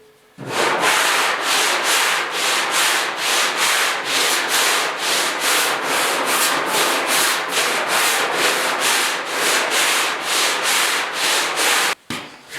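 Coarse 40-grit sandpaper rasps by hand across the dented driver's door bodywork of a 1972 Ford 4x4 truck, loud and close in steady back-and-forth strokes of about half a second each, with a brief pause near the end.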